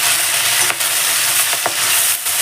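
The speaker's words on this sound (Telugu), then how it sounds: "ఈ ఆకంతా బాగా వేగాలి, అంతవరకు బాగా కలుపుతూ వేయించుకోవాలి." Drumstick leaves stir-fry in a pan with a loud, dense sizzle throughout, broken by a few quick scraping strokes of a spoon stirring the leaves, with no voices.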